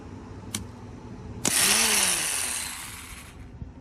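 Starter on a Kawasaki KLF300C 4x4 ATV under restoration spins briefly: a short click, then a loud whirring, chain-driven cranking burst of about two seconds that fades out, with no talking.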